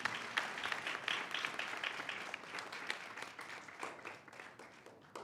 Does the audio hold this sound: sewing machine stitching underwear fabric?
no